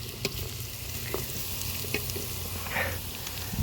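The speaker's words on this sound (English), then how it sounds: "I'll give those a stir in" Chorizo and vegetables fry in a pan, soft sizzling with a few stirring scrapes and clinks, fairly quiet and close.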